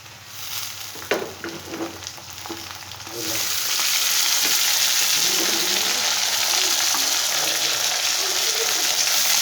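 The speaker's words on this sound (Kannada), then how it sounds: "ಈರುಳ್ಳಿ ಫ್ರೈ ಆಗಿದೆ" Onions and tomatoes fry in a pan, a loud, steady sizzle swelling up after a few seconds of quieter stirring and clinks, close and continuous with no talking.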